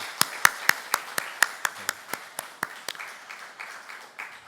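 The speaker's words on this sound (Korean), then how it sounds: "다시 한번 뜨겁게 박수해 주시기 바랍니다." At a church prayer-service worship, hands clap together in a steady rhythmic beat, about seventeen sharp claps in even time that soften slightly near the end.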